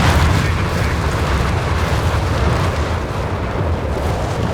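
Carpet bombing in Company of Heroes 3 lands as a dense, continuous roar of heavy explosions, loud and sustained with rumbling low end and no clear gaps between blasts.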